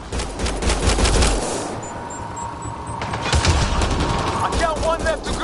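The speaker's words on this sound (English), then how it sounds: "They shot him!" Sustained automatic gunfire from a firefight in the video game Mass Effect: Andromeda, rapid close bursts running throughout with faint voices in the background.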